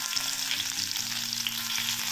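Crushed garlic sizzling in a couple of spoonfuls of hot oil in a kadai, a steady close hiss of frying with faint stirring and no voices.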